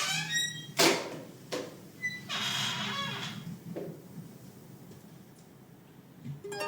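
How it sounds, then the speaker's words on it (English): A chair squeaks and screeches in several short bursts, the middle one longest, with quieter creaks trailing off afterward. "it makes it extra hilarious when you hear the screech on this chair"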